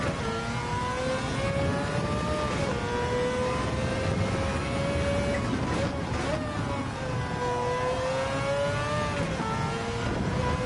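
A Gran Turismo 7 race car engine roars loud and continuous, its revving pitch climbing and dipping as it shifts and accelerates.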